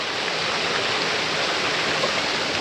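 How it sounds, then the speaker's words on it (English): Flattery Creek Falls and its creek in the woods near Cape Flattery give a steady, close rush of falling water that holds an even level throughout, with no voices. "below me here is Flattery Creek Falls."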